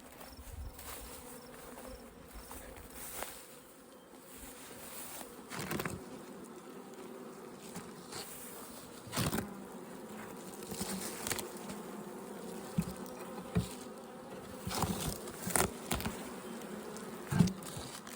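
A steady insect drone of many bees buzzing close by at an open hive, with occasional louder passes and soft knocks and handling sounds.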